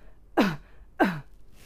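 Two short, sharp coughs, evenly spaced and close up, with quiet pauses between them.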